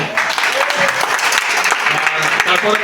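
Attendees at a homeowners' association election meeting applaud a speaker, with a steady patter of clapping under crowd murmur throughout.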